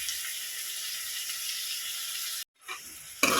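Tomato paste poured into a pan of sizzling fish curry, giving a steady hiss and crackle that cuts out suddenly, then resumes more softly with a brief louder burst at the end.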